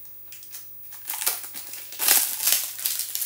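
Cellophane wrapping crinkles and tears as it is pulled off a boxed ZX Spectrum game, starting faint and growing into louder, close-up rustling bursts over about three seconds.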